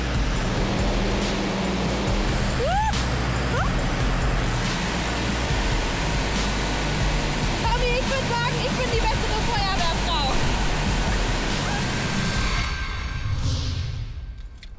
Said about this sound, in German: erst wenn das Wasser rausschießt, wird sich zeigen, ob Julie das Ding überhaupt halten kann